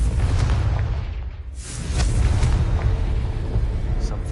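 Casting the Confringo fire spell in Hogwarts Legacy sets off a heavy, rumbling blast with a rushing whoosh that swells again after a short lull. The loud, continuous rumble fills the whole stretch.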